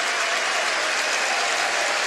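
A football crowd at Aberdeen's testimonial match for Neil Simpson against Manchester United applauds loudly and steadily, a dense, unbroken wash of clapping filling the stadium from start to finish.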